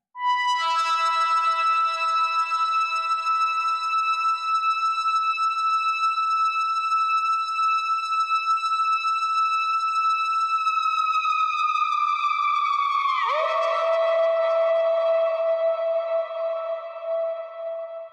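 A sustained synthesizer chord with rich harmonics rings steadily, then its pitch bends downward and swoops into a new note, trailing a long reverberant tail.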